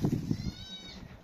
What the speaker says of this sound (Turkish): Bu keçimizin oğlağı.